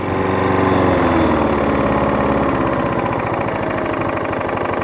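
A Hayter 41 lawn mower's small petrol engine idles close by, a loud, steady, throbbing chug that stays level for the whole stretch.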